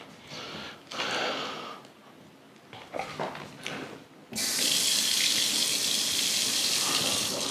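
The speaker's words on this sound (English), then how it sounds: "Oh, Tab, you getting into the shower too?" Shower water switches on partway through and then runs as a loud, steady broadband hiss. Before it starts there are a few softer bumps and splashes.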